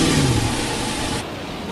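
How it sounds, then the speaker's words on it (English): A truck engine sound effect in a video game revs loudly with a falling engine tone, then drops to a steadier, lower drone partway through, with no talking. "I also changed the sound effects to random truck sounds."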